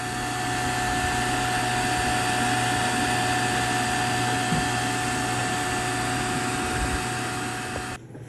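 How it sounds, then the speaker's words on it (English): A resin curing machine runs with a steady, loud mechanical hum and whir and a constant tonal drone, then cuts off abruptly near the end. No one speaks. "So I'm gonna stick these in my curing machine"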